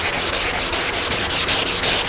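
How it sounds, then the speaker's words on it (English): Final prep sanding of an MGA car body panel before paint produces a loud, close, raspy rubbing in quick rhythmic back-and-forth strokes, about ten passes in two seconds, with no talking. "It's still sanding, but when you get to where it really needs sanded"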